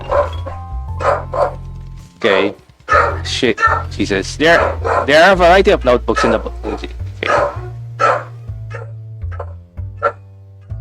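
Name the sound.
dog barking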